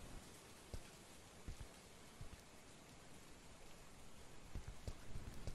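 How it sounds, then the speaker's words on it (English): Rain falls in a horror video game as a soft, steady hiss of downpour, with scattered louder drops tapping through it and the intensity swelling slightly toward the end. "I guess it's gonna rain."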